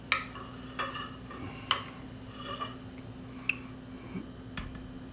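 Cornbread is being stirred into chili beans with a spoon, producing soft, irregular scrapes and clinks against the pot, with quiet squishy mixing in between.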